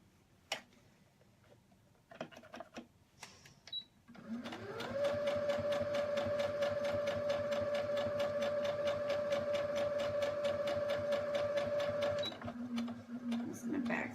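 A sewing machine stitches the last curve of a stuffed fabric heart, starting with a few short bursts, then running in a long, steady, close whir with rapid needle clatter before it slows, and a voice talks briefly at the start.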